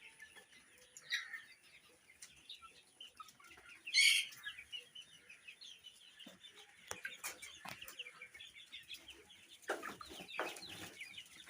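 Sonali chickens on a farm cluck and chirp in a steady, busy flock chatter, with one louder burst partway through and a few sharper calls near the end, some wing flaps mixed in.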